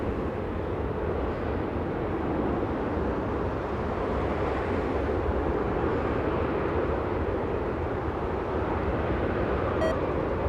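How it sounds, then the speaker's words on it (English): Southwest Airlines jet, flight 1464 arriving from Denver at Los Angeles International Airport, roaring as a steady, loud broadband rumble that holds evenly throughout, with no voices. "Southwest Airlines flying in from Denver, Colorado, Southwest 1464"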